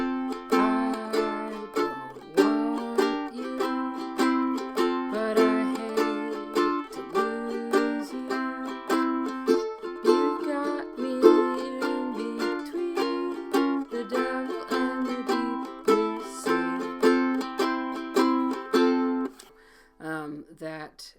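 Ukulele strums the chorus chord progression of a song in steady rhythm, bright plucked chords repeating beat after beat, ending with a few softer strums.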